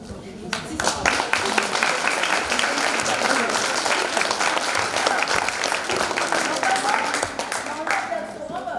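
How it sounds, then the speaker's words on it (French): A theatre-forum audience applauds the actors, a dense, steady sustained clapping from a full room that holds at an even level throughout, with faint voices mixed in underneath. "On applaudit les comédiens, c'est bien."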